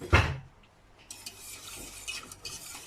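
A hand whisk strikes a bowl with one sharp clank, then scrapes and stirs softly for a couple of seconds as ingredients are beaten in a home kitchen.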